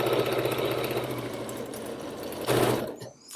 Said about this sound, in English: I'm going to sew my first row of gathering stitches roughly about 1/8 of an inch away from that raw edge